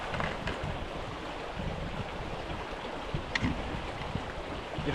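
River water flows steadily at a bushcraft camping spot on a main river, with a continuous close rushing wash and no voices.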